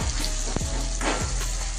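Tomatoes with salt frying in a pan, a steady close sizzle broken by a few stirring scrapes and spatters.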